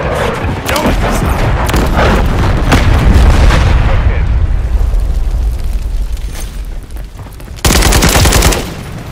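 Heavy gunfire and explosions fill a Team Deathmatch match in Call of Duty Modern Warfare III, rapid machine-gun bursts and booming blasts close by, with a voice shouting over the battle and a final loud burst.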